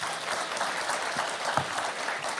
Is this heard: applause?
yes